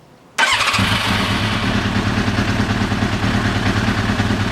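A Yamaha YZF750R sport motorcycle engine, unused for ten years, cranks and catches after a brief quiet moment, then keeps running at a steady, loud, rumbling idle with a throbbing, clattery beat.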